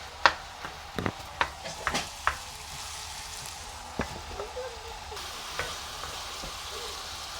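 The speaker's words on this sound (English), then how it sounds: "Then you drop the minced lamb mixture." Minced lamb mixture with ginger and garlic fries in a pan, a low continuous sizzle punctuated by several sharp utensil taps and scrapes early on, then quieter stirring, close up with no talking.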